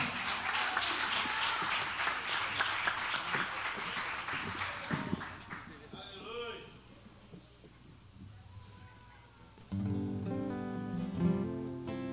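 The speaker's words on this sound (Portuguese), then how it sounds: "aplauda o nome dele" Church congregation applauding in a broad, sustained wash of clapping for about five seconds with voices mixed in, fading to a quieter stretch before music with singing swells in near the end.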